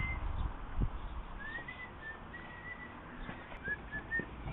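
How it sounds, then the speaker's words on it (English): A man whistling a few short rising and steady notes, faint and distant, picked up by the built-in microphone of an outdoor CCTV camera over a driveway, with low background rumble and no talk. "so you can hear me whistling"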